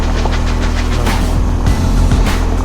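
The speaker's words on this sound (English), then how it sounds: "I'm trying to ride in these tire ruts that have already been created." A BMW R1250 GSA motorcycle rides over a loose gravel road. A steady, close engine drone mixes with continuous crunching and rattling from the tires over stones.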